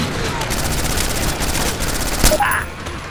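Rapid automatic gunfire from the video game Left 4 Dead 2 rattles in a dense, continuous burst, with a few sharper shots and brief electronic tones near the end, and a player's voice speaking over it.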